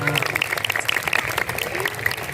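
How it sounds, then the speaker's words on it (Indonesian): A room of listeners gives brief applause at an Indonesian religious storytelling gathering, a short burst of scattered clapping at moderate distance with a voice talking over it. "Boleh kasih tepuk tangan dong."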